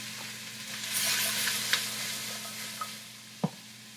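Mushrooms sizzle in oil in a pot with a steady hiss, light stirring and a couple of sharp clinks near the end, no voices.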